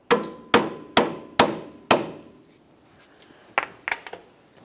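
Five sharp, ringing metal strikes at an even pace drive a pry bar between the steering knuckle ears of a 2003-2007 Honda Accord during strut replacement, followed by a pause and a few lighter, quicker taps.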